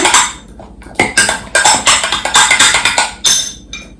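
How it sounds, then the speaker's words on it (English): A lentil salad is stirred in a pot, with bright clinks and scrapes of a utensil against the metal coming in quick, close, loud bursts. "let's just give this a little"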